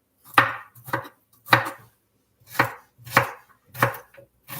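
A knife chops red cabbage and fennel on a board, seven or eight sharp, close, separate strokes in an uneven rhythm with brief pauses between them.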